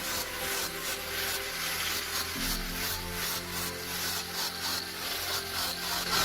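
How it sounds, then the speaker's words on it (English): A stone grinder roughens tile surface beneath a metal frame on a tandoor and wood-fired pizza oven build, giving a steady, close abrasive rubbing and grinding that runs unbroken throughout. "by using the stone grinder, make a rough surface on the tiles underneath the metal frame"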